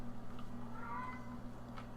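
A cat meows softly, a single drawn-out meow near the middle, faint against a steady low electrical hum, with no talking.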